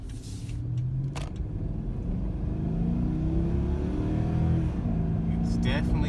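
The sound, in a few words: Dodge Charger Hemi engine running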